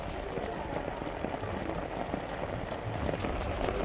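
Steady rain falls during flooding in Jammu, a dense, continuous patter of drops on surfaces with no voices, holding an even level throughout.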